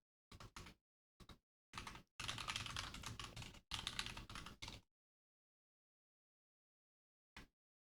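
Bursts of typing on a computer keyboard during C++ programming, a few short clusters of keystrokes followed by a longer steady run of clicks, then silence and one last brief tap.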